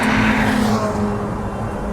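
A Ferrari 458 Speciale with a naturally aspirated engine roars loudly at high revs as it drives through hills, a dense, steady howl with a slight shift in pitch and no talk.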